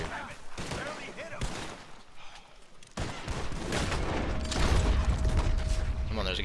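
Gunfire in Red Dead Redemption 2, scattered shots at first and then a louder stretch of sustained firing with mechanical clatter, close by, with a voice talking over part of it.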